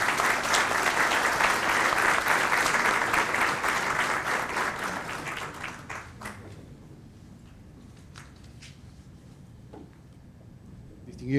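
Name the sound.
applause for a university rector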